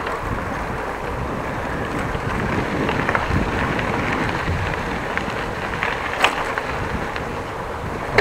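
Wind buffets the microphone while cycling along the Van Starkenborghkanaal, a Dutch canal, on a hot day, giving a steady, close rumbling roar for the whole stretch with occasional stronger gusts.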